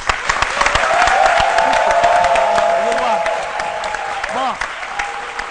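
Studio audience on a midday television show applauding: a crowd's clapping with some cheering runs steadily throughout, while a voice speaks over it and musical tones hum underneath.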